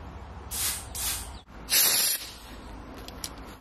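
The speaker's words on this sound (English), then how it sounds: "Every bit of that air is coming out of that other nozzle." Compressed air hisses out of a nozzle on an EVAP carbon canister, in three loud bursts of a second or less, each stopping abruptly, with quieter hissing and faint clicks between them and no talk.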